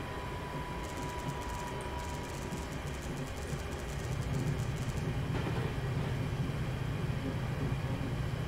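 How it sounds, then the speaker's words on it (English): Class 66 freight train in Train Sim 2019 rolling past on the Trent Valley line, a steady broadband rumble that swells louder about halfway through as the wagons draw nearer, with no talking. "You get a freight train. Was that class 66?"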